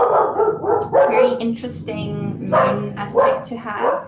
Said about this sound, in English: Oh, sorry about the dogs